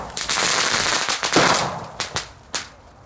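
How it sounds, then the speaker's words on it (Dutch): Single-shot fireworks lit and fired outdoors, giving a long hissing burst followed by several sharp, loud bangs spaced apart, close by. "Maar het zijn leuke single shotjes. We gaan ze direct even aansteken."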